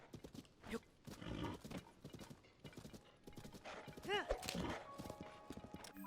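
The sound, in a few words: horse hooves clip-clopping in a video game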